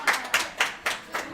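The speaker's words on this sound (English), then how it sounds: "Can we give them a round of applause, please?" Five evenly spaced claps ring out for a girls' basketball coach and player welcomed as guests on a Liverpool preview show, crisp and close with short gaps between them.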